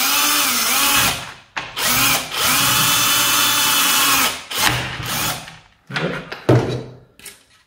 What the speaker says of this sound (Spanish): cogemos una broca de este tipo y simplemente hacemos el agujero